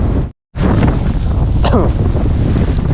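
Strong sea wind buffeting the microphone on a rocky shore during rough, rainy weather, a loud continuous roar with a short dropout near the start and a voice speaking within it.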